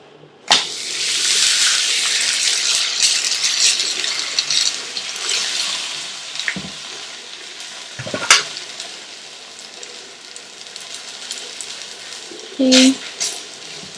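A green paratha hits an oiled pan on a full flame and fries with a loud, steady sizzle that starts abruptly and continues throughout, with a few clattering knocks of utensils and no talking.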